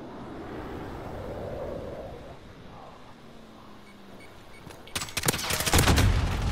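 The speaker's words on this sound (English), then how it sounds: "Enemy cluster strike incoming." An incoming enemy cluster strike in a first-person shooter hits near the end as a rapid, loud string of close blasts, following several seconds of low rumbling ambience and a few faint distant shots.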